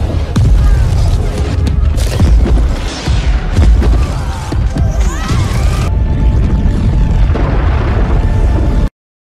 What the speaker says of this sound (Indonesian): tiba-tiba terjadi ledakan gunung yang mengeluarkan batu panas hingga menghujani Galadriel dan prajuritnya